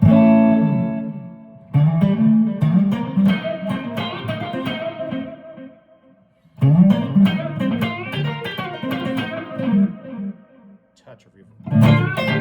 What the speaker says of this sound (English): Touch of reverb.